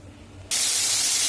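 Fish dropped into hot oil in a wok: quiet kitchen background, then a sudden loud, bright sizzling hiss that bursts in and holds steady.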